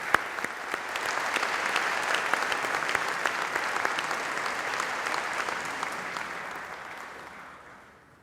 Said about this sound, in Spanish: Un aplauso para los ciudadanos candidatos,